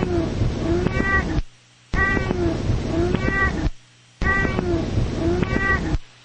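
A 15-year-old chubby black and white cat meows three times, each call long and drawn out with a rising and falling whine. Short silent gaps separate the calls, and the cat sounds close.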